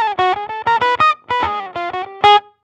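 Electric guitar through a fuzz/octaver pedal with gain down and volume up, giving a pure octave-up tone: a quick run of separate bright, buzzy notes, loud and close, with no voices.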